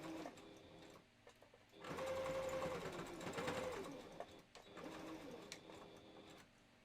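A sewing machine runs a zigzag stitch through fabric for a Christmas stocking, in two close, steady bursts of whirring motor and needle clatter with a short pause between them.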